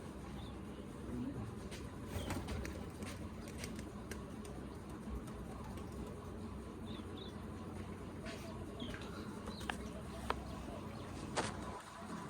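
Soft pigeon cooing in the background at a farm, low and intermittent, over a steady ambient hum with occasional faint clicks and distant noise.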